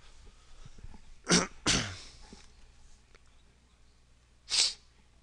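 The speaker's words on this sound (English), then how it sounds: "Sorry, I keep clearing my throat." A person with a lingering cold clears their throat in sharp bursts, two close together and a third a few seconds later, fairly near and loud against a quiet room during a card game.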